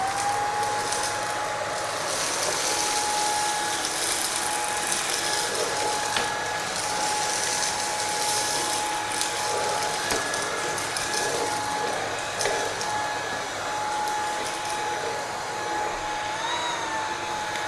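A Shark pet vacuum cleaner runs steadily in floor mode, a continuous whirring hum with a faint high whine, close and alone throughout.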